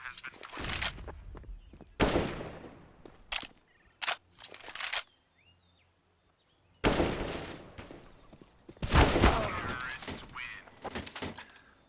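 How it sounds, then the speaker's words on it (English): Flashbang bursts and gunfire crack through a tactical shooter match in loud, dense clusters separated by a brief near-silent gap, some blasts close and heavy. "Deploying flashbang."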